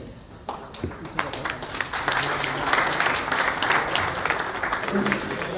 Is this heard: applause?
yes